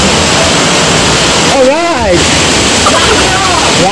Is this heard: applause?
no